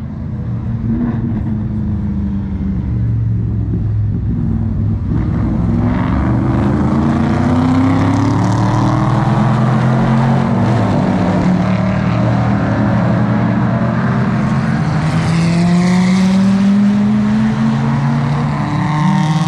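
A Renault Mégane race car running at the Montlhéry circuit during the October 2024 centenary event, its engine droning with rising and falling pitch as it accelerates, loud and continuous with no voices.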